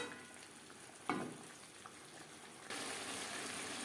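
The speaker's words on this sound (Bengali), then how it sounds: "হাই টু মিডিয়াম ফ্লেমে 4-5 মিনিট নাড়াচাড়া করে নেব।" Potatoes and cauliflower with spices cooking over a high-to-medium flame, a low steady sizzle with a few scraping stirs, then a louder rush of frying noise near the end, no talk.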